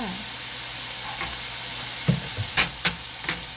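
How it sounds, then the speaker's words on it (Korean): Garlic and soy sauce stir-fried in a pan for Korean japchae, with a steady loud sizzle and hiss throughout and a few sharp scrapes of a utensil against the pan near the end. "마늘과 간장, 이렇게 좀 볶아주다가"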